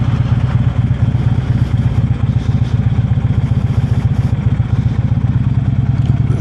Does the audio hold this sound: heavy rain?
no